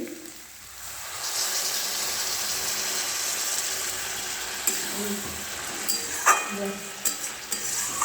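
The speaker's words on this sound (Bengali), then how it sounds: "দেখো জল দিচ্ছি" Paneer chilli gets stirred in a pan, a low hiss of frying under a series of scraping and clattering strokes from the spatula, growing busier toward the end.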